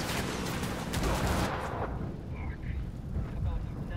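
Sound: gunfire in Tom Clancy's Ghost Recon Wildlands video game

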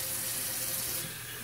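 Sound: filling a container with filtered water from a tap

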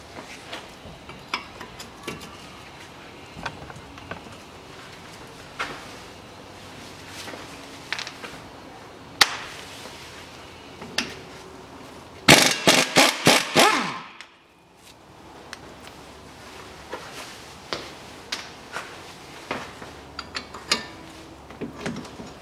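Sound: unscrewing strut mounting nuts on Nissan X-Trail

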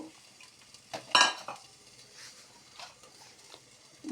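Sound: broad bean seeds added to a frying pan with potatoes and teasel gourd

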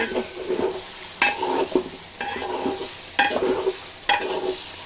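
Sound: meat and pulao rice cooking and stirred in pans for biryani

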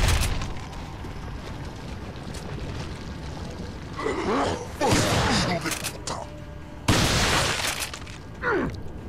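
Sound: shotgun fire in Resident Evil 4 video game

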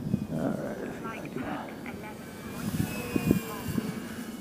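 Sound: Durafly Tundra RC airplane landing

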